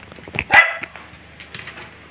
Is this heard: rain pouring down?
no